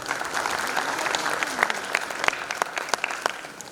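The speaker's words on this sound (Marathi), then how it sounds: "सगळ्या कलाकारांसाठी येतात तुम्ही जोरात टाळ्या वाजवल्या" An audience claps loudly and continuously at a poster and teaser launch event for a Marathi film, dense overlapping hand claps with a crowd murmur and voices underneath.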